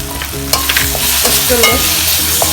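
Spice masala with chilli powder, pepper and garam masala frying loudly in a pan for a yam curry, an intense close sizzle with repeated spatula scrapes and knocks while being stirred.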